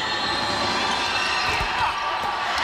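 A basketball bounces on the court as a player prepares a free throw in a game, a few distinct thumps under a steady hum of arena crowd noise.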